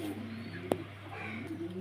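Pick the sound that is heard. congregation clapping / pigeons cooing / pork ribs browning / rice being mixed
pigeons cooing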